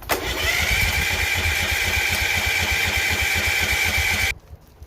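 A DLS3500 tractor engine cranking over on full choke, a loud, steady rapid churning of the starter and engine that runs for several seconds without catching, then cuts off abruptly into near silence.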